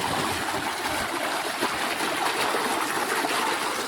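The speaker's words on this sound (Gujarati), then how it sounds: "આ બાજુ પાણી ચાલુ છે।" Irrigation water flows steadily into a groundnut field, a continuous broadband rushing and trickling that stays close and even throughout, with no voices.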